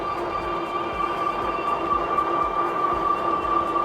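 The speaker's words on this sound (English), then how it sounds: "For a brushless motor, it's a loud motor." Emojo Bison Pro e-bike's brushless motor at top speed, around 19 miles per hour, a steady loud electric whine with a sharp tonal hum over rushing road and wind noise, continuous and close, no voices.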